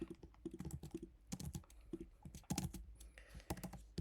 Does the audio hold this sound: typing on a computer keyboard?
yes